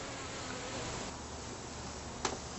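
Bees buzzing around a top bar barrel hive during an outdoor inspection, a steady, faint, continuous drone from many insects with one brief louder pass near the end.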